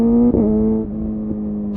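A motorcycle fitted with a new exhaust hums at a steady, tonal pitch, dipping briefly as the revs change, then settling into an even drone close to the mic.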